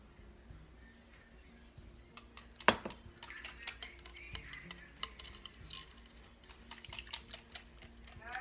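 Spoon working through a French toast casserole mixture in a bowl, soft stirring with scattered clinks and taps and one sharper knock early on, fairly quiet.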